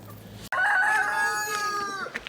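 A rooster crows once, loud and close, a drawn-out call lasting over a second, with faint clucking from chickens around a shed.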